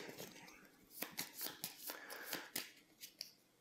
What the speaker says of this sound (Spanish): mezclamos las 16 cartas